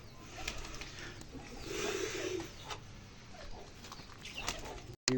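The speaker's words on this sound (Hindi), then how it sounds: "शेरू गैंग का भी हो चुका है, इधर कबूतरों का भी जनाब दाना पानी हो चुका है, सारे ये खा रहे हैं।" Pigeons coo softly and chickens cluck while pecking at scattered feed, fairly faint and close by, with gentle rustling between the calls.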